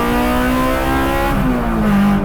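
A Honda S2000 time attack car with a 2.2 liter engine pulls hard at full throttle in first gear. A loud, close, continuous engine howl climbs steadily in pitch, then briefly dips as if backing off, with no talking.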